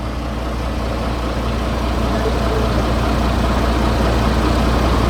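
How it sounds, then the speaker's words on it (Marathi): A vehicle engine idles steadily with a constant low rumble and hum throughout, close by and fairly loud, with no change in speed. "तोपर्यंत साऊंड दाखवतो तुम्हाला इंजिनचा"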